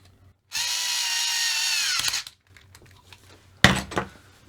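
A power tool whirs for about a second and a half driving screws into a gasketed differential cover on an Xray XB8e RC car, followed by small plastic handling clicks and rattles.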